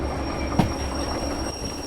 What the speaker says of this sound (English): Whilst the train's stopping